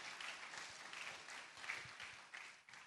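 A round of applause at the Otumfuo Osei Tutu II Art Awards ceremony, dense clapping from a crowd that sounds fairly distant and soft, continuing steadily throughout.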